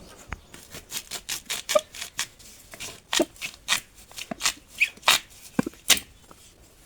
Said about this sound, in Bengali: ওলটা এখন আমি কেটে নেব